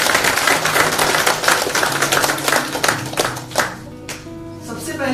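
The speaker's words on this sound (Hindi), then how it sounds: "तालियां बजाएं आप।" Audience clapping at a business training session, a dense burst of applause that thins out and fades toward the end with a few scattered claps.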